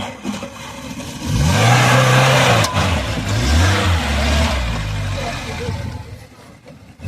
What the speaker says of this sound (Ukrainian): Газує.